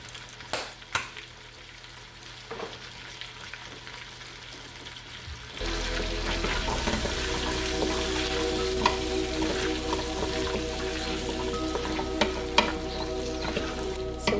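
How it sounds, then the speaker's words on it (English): Vegetables sauté in a pan ahead of the cabbage for a southern-style Sunday dinner. Quiet light clinks and taps come first, then a loud, steady sizzle starts partway through and holds close to the end with occasional stirring knocks. "So right now I'm just sauteing everything around before I put my cabbage in."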